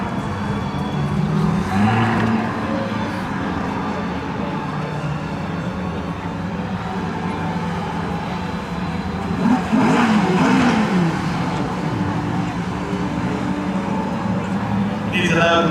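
Cars rev at a Ferrari festival event at Brands Hatch race circuit, engines droning steadily with a louder rising rev burst near the middle, all under ongoing voices nearby.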